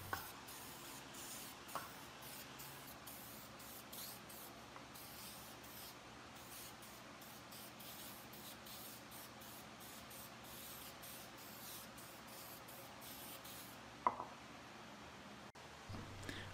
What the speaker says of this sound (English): If you have a small project like this, you can buy lacquer in a spray can.